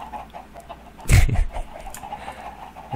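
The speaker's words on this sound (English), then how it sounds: "Okay, look out, chickens." Chickens in the Minecraft Tekkit 2 modpack give a short, fairly loud burst of clucking around the middle, standing out over a low, steady game background.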